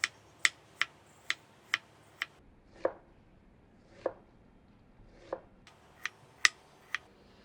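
Sharp knife strokes chopping three medium onions into wedges on a cutting board, a steady run of crisp chops with a few slower, heavier cuts in between, close and clear.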